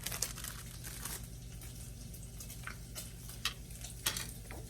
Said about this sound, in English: The joys of unwrapping single slices of cheese.